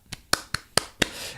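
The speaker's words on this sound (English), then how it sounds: "That in of itself is worth a hand clap." A handful of sharp hand claps, five distinct slaps spaced roughly a quarter second apart, close and fairly loud, with the last one trailing into a brief rustle and no talking.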